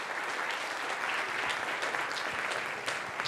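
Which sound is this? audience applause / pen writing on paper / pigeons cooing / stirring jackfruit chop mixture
audience applause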